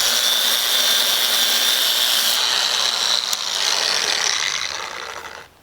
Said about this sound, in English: I have a lot of experience with an orbital sander, so I'm going to do this.